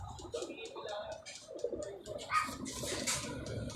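Pigeons coo in a soft, repeated rhythm among other bird chirps, with background noise and faint voices around them.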